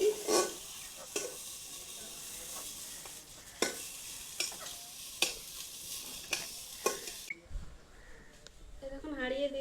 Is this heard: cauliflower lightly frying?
yes